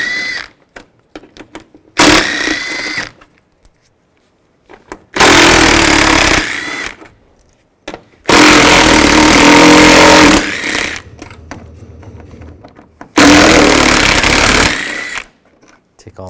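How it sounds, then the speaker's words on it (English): A power ratchet or impact tool spins out bumper bolts on a 2007-13 Chevy Avalanche using a 10mm socket, loud buzzing bursts of one to two seconds separated by quiet gaps with brief clicks. "going to take these bolts out. You're going to use a 10mm socket."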